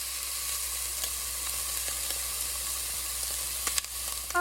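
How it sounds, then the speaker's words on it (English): Cubed chicken sizzles with onions and orange pepper in a pan, a continuous close frying hiss with occasional stirring scrapes and utensil taps toward the end. "I'm going to get it in with the onions and the orange pepper and let that saute together."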